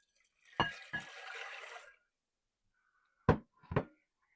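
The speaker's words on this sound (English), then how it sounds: "we're going to put the salt and the water together here in the bowl" Water and salt poured together into a bowl for microwave mac and cheese: two close knocks, a short soft splashing pour, then a couple of sharp clinks against the bowl, with no talking.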